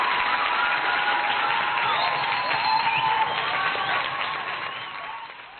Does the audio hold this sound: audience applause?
yes